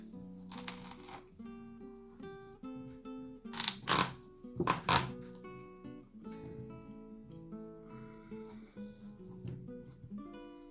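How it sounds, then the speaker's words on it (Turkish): A knife forced through a hard-skinned Hokkaido red kuri squash, a few sharp cracking crunches in the middle among softer scraping and handling noises, close, with no talking. "Bıçağım da keskin ama Böyle keserken biraz zorluyor"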